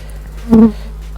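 A short, droning buzz of honeybees at an open hive, over the brood frames during varroa mite treatment, swells up close and fades within a moment over a faint background hum.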